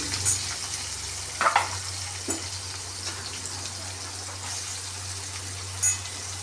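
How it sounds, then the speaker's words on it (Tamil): Low sizzling of chopped onions frying in a pan, with a steady hum underneath and a few brief clinks and stirring sounds. "வெங்காயத்தை போட்டு கொஞ்சம் ஃப்ரை பண்ணுவோம்"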